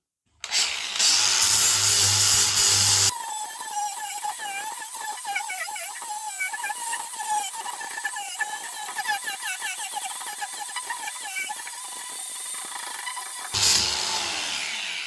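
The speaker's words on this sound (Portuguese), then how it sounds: "Com a esmerilhadeira eu passei aqui, tentei tirar aquela parte que estava muito retinha, muito certinha." An angle grinder whines as it carves grain-like grooves into a wooden board for a resin coffee table. A loud steady spin-up gives way to a wavering, loaded tone while the disc bites the wood, then rises again near the end.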